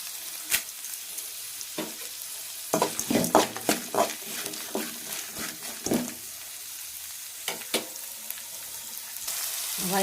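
Onions sautéing in a pan for a small-leaf keerai poriyal, with a soft continuous sizzle broken by bursts of stirring and scraping, close, each burst of strokes short and uneven.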